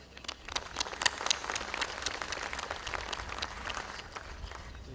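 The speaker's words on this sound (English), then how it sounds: "ladies and gentlemen, let us have a big round of applause," An audience applauds at a pulses industry conference, dense crowd clapping that holds steady and moderately loud throughout without speech.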